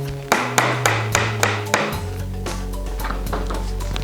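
A hammer strikes nails in pallet wood, five or six sharp, evenly spaced knocks up close, followed by softer tapping and scraping with a low hum.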